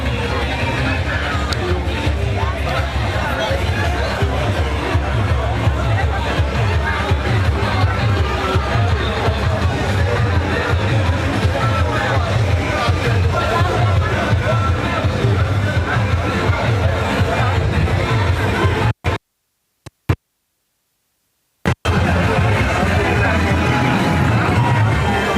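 Crowd noise at a junior carnival parade on 4th Street: a dense, loud hubbub of voices and street bustle continues throughout, broken by a brief dropout near the end.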